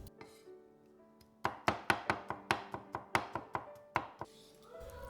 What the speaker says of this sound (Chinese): 蒜头切碎